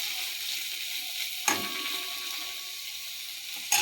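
Gime shak greens fry quietly in a pan with a soft, steady hiss, and two sharp clatters of a utensil against the pan come near the start and the end.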